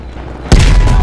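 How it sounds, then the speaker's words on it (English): A single sharp, loud boom of gunfire in Call of Duty: Black Ops Cold War erupts after a brief quiet moment and rings out with a heavy low rumble. "you followed the road right toward the sound of gunfire."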